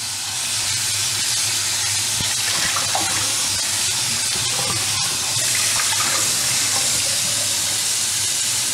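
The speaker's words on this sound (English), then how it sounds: "So, turn on the water," Cold tap water runs steadily into a kitchen sink while broccoli is rinsed under it, a loud continuous hiss and splash with a few brief knocks, no voices.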